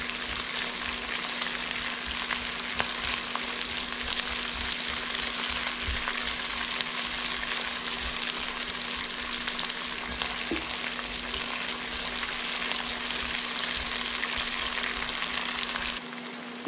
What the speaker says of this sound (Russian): Теперь опускаем перец. И жарим также